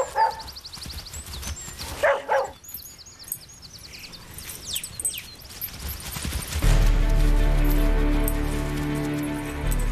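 A shepherd dog trained to break up fighting cattle lets out a few sharp barks and yips in the first seconds, amid rustling movement, before steady music takes over.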